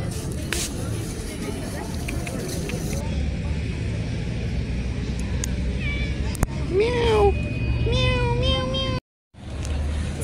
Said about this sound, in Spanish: This place is full of cats.